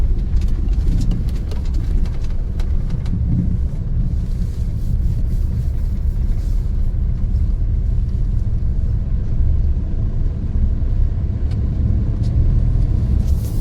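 A petrol/CNG vehicle accelerates along a road, giving a loud, steady low rumble of engine and road noise that carries on for the whole stretch without voices.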